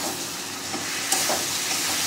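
Ginger, garlic and onion paste fries in hot oil with a steady, dense sizzle, broken by a few soft scrapes of stirring close by.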